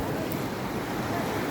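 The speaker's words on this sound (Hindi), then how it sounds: "बहुत तेज़ उधर पानी चल रहा है।" Fast-flowing river water rushes at the Gaula barrage on the Gaula river in Uttarakhand, a dense, steady roar with no pauses over the short stretch.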